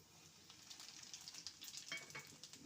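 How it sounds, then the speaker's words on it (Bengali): Dry red chili and carom seeds sizzle and crackle as they temper in hot mustard oil in a pan. The spitting is faint and close, with scattered pops and no voices. "এখন আমি শুকনো লঙ্কাটা ফোড়ন দিচ্ছি"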